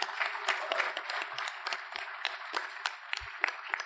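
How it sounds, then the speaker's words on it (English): A crowd at a PAX Aus 2024 gaming panel gives a round of applause: dense, continuous clapping at moderate distance with scattered louder individual claps and a few brief cheers, running steadily throughout. "So, once again, round of applause"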